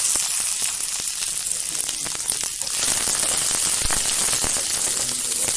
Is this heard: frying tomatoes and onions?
yes